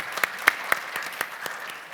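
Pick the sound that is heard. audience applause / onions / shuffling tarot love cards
audience applause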